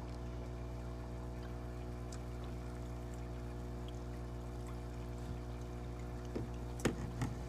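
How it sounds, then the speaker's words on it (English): Aquarium tank water poured from a guppy tank into a jar or cup gives a soft, steady trickle over a constant low hum of tank equipment, with a few small splashes near the end. "And then get some of the tank water. Pour it in."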